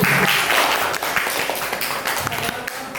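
Students clapping in a Catholic school classroom, a fairly close, uneven burst of hand claps with a few distinct individual claps standing out.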